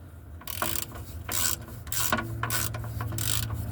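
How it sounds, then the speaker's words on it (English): A socket wrench ratchet with a 15/16 socket turning to loosen the oil drain plug on a John Deere 410E Turbo backhoe, giving repeated clicking ratchet strokes in an uneven back-and-forth rhythm, close and fairly clear, with no talk. "15/16 socket. You'll turn it to the left."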